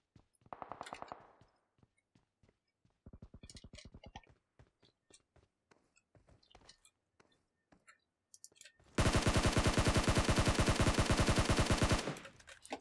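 Gunfire in the mobile battle royale game PUBG Mobile: a couple of short bursts, a few scattered single shots, then a long sustained rapid-fire spray of about three seconds, loud against quiet gaps.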